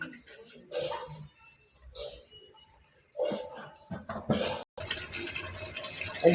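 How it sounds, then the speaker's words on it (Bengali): Kewra water is poured into a pot of pulao, giving a short splashing, trickling pour near the end, while a person talks over much of it. "এখন আমি এক মুঠি কেওড়া জল দিয়ে দিলাম চুলার ভিতরে।"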